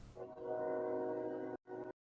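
A loud train horn blares steadily for over a second, cutting off briefly and then sounding again in a short final burst, alone without talk.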